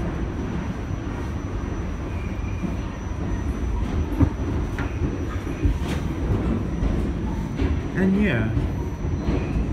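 An R46 subway train on the R line in Brooklyn rumbles steadily as it brakes toward Bay Ridge-95th Street, with clanks and squeals over a dense low roar and brief talk.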